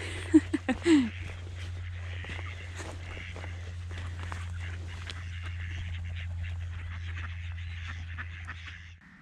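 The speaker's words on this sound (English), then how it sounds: "Nice little ponds there with the ducks making the most of the water." Ducks quack a few times close by at a pond along a countryside walking trail, brief calls at the start, then a steady low hum and footsteps on the path.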